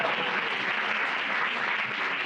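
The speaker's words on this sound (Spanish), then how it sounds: "Un aplauso, por favor." At a book presentation, an audience applauds evenly and without a break, a dense wash of clapping at moderate volume with no voices over it.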